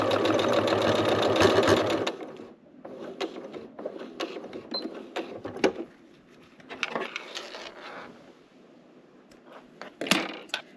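A sewing machine stitches a fabric seam for a small minimalist cell phone purse, running steadily forward and then backstitching, with a loud continuous burst at first followed by shorter, quieter runs and pauses.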